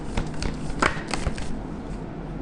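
Tarot cards are handled and drawn from a deck, giving a few close, soft papery riffles and flicks with a brief sharper snap, then fading to quiet room tone.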